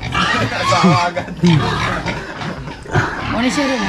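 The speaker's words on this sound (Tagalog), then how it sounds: "Yan yung baboy mo?" A pig on a farm at a village fiesta gives several short grunts and squeals, close and fairly loud, heard amid people talking.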